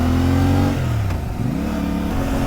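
CFMoto 450MT motorcycle (2024) with stock exhaust, its engine revving up and dropping back in a couple of swells, loud and close with no talking.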